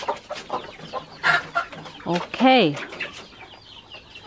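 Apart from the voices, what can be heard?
chickens clucking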